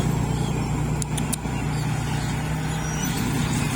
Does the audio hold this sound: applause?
no